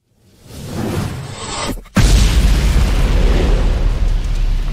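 Loud explosion in a music video: a rising rumbling whoosh builds, briefly dips, then a sudden booming blast erupts into a sustained roaring wash that stays loud to the end.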